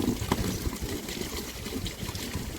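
Water poured into a tub to soak cocopeat for a chilli seedling nursery, a soft continuous trickle and splash close by, steady throughout without voices.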